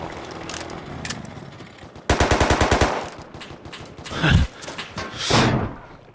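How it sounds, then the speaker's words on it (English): Gunfire in the Rust video game: a rapid, loud burst of automatic shots, roughly a dozen evenly spaced cracks, followed by heavier thuds and booms nearby, with no talk over it. "Try and shoot that guy, but that didn't really work"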